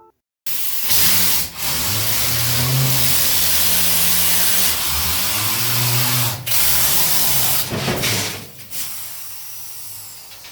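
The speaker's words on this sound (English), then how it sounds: "our tour guide demonstrated the use of the equipment located in the mine" Mining equipment runs underground in a Colorado gold mine. A loud, sustained pneumatic hiss and roar, like a compressed-air drill, starts abruptly and holds with a fluctuating motor whine. It cuts out briefly, restarts, and then tapers off.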